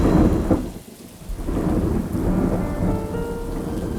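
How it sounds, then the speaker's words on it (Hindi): Heavy monsoon rain pours steadily in Mumbai, with deep rolling thunder rumbling loudly through the first half and the downpour continuing alone throughout. "बारिश तो कम होने का नाम ही नहीं ले रही है।"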